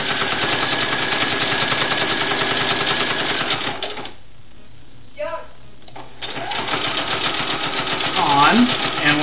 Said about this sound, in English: what we're going to do is we're just going to sew that